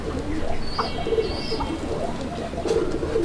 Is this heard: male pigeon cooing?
yes